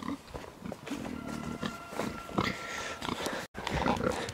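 Low, snuffling grunts from pigs nearby, irregular and close, mixed with rustling and shuffling movement.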